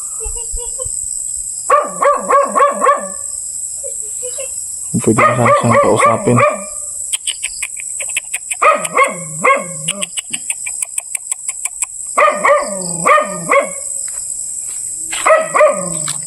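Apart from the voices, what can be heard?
dog barking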